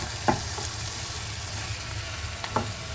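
Cabbage frying in a pan, with a continuous close sizzle and a few soft scrapes of a spoon as it is stirred; no one speaks.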